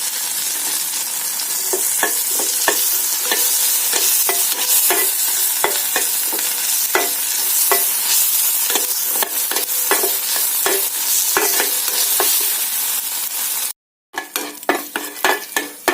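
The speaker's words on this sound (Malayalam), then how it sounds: "ഇനി വറ്റൽമുളക് അതിലേക്കിട്ട് നന്നായിട്ട് വറുത്തെടുക്കാം" Dried red chillies fry in hot oil in a pan, giving a steady loud sizzle broken by repeated sharp clicks of stirring, with a brief silence near the end before the sizzle and clicks return.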